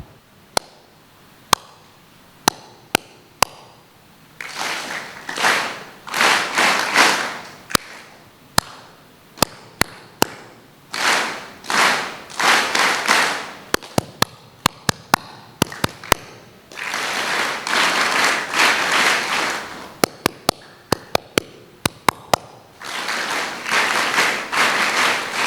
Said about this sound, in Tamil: அதே மாதிரி இப்போ கொஞ்சம் கைத்தட்ட போகிறோம் ஃபஸ்ட்டு.